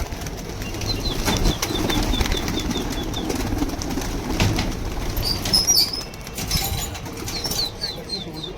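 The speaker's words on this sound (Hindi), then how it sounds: "ये कबूतर सारे खुल गए।" A flock of pigeons is released and takes off in a rush of flapping wings, a steady fluttering roar with faint chirps and coos above it.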